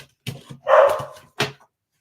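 A dog barks several times close by: short sharp barks, a longer, louder bark in the middle, then one final bark before silence, with no talk over it.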